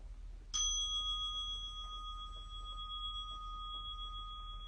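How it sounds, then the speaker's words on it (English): A single meditation bell strikes once and rings on in a long, clear, slowly fading tone over a quiet background. "you will hear a bell every 5 minutes"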